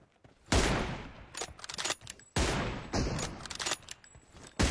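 Gunfire in an M24 sniper shooting video game, with loud bursts of rapid shots separated by brief pauses, close and dominant.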